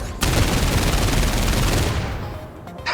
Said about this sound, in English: Let's see if we go down 1 to his machine cannons.